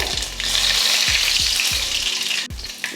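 Mustard seeds, urad dal and curry leaves hit hot oil, producing a loud, dense sizzle with rapid spattering, cut by several low thuds from the pan.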